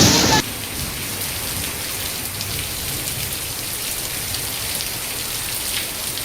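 Heavy rain pours down steadily in Baloda Bazar or Kawardha, Chhattisgarh, a dense even hiss that continues throughout after a brief louder burst at the very start.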